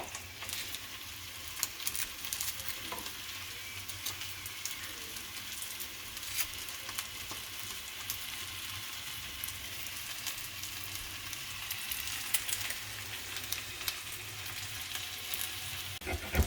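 Thinly sliced onions frying in a pan, a soft continuous sizzle with scattered crackles and pops, fairly quiet and steady with no talking.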